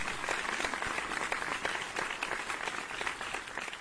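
A quiet, somewhat distant round of clapping from a small group during a talk show, with scattered individual claps audible in an uneven, low-level patter.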